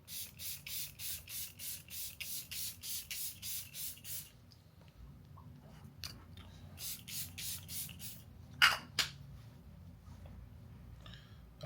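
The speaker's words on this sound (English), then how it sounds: "So Airbrush Flawless Filter Setting Spray, which is down to its last couple drops." A nearly empty bottle of Charlotte Tilbury Airbrush Flawless setting spray gives a rapid series of about a dozen short, even hissing spritzes, then a few more scattered bursts after a quiet pause.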